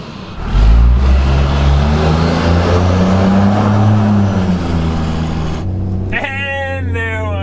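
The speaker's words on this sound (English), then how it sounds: "throw it in neutral and rev it up and hear that crack of that S467 on that second gen manifold" Truck engine with an S467 turbo on a second gen manifold revs hard in neutral, a loud, deep roar rising and holding for several seconds before dropping off, followed by a brief higher whistling spool as it settles.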